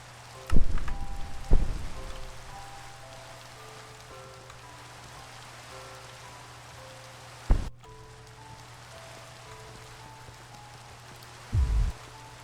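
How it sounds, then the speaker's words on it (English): Rain falling in the Minecraft Enigmatica 2 modpack, a soft continuous patter under a low steady hum, broken by a few louder thumps and clicks. "Oh gosh, rain. Let me go shut the rain off."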